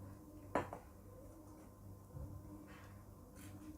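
A karai wok lifted off a kitchen stove makes one sharp metallic clank, followed by a couple of faint scrapes and light knocks in an otherwise quiet room with no talking.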